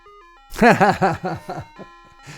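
An ice cream truck jingle plays as part of a song, a short bright chiming melody of several quick bell-like notes, loud and clear, with no talk over it.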